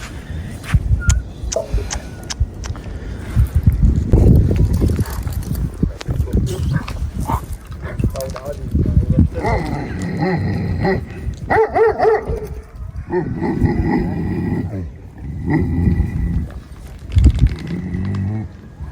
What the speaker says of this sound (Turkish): Zindan sanki hırlıyor gibi değil mi Mehmet?